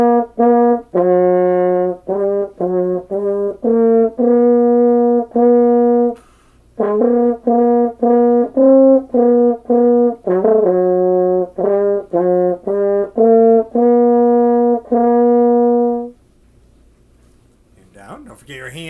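French horn playing the carol Good King Wenceslas, a clear solo melody of mostly short detached notes with a few held ones, close and loud, with a brief pause midway and a soft end.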